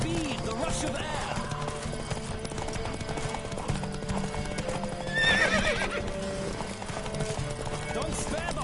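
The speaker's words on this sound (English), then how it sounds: "Don't spare the horse!" Horse hooves clip-clop at a rapid gallop during a horse race in The Witcher video game, with a loud neigh midway and character voices talking over the steady drumming.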